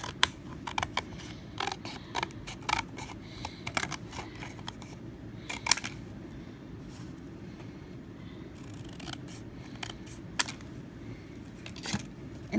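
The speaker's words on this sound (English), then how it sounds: "I'm just gonna cut this out." Scissors cut out patterned paper mounted on thicker cardstock, giving a series of close, light snipping clicks at irregular intervals over a soft steady background hiss.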